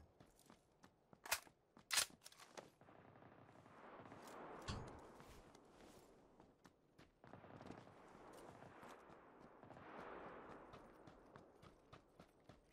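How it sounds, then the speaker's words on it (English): Gunshots in the battle royale game PUBG, a few sharp cracks early on followed by quieter scattered pops and rustling movement, faint and distant overall. "Obviously we hear shots"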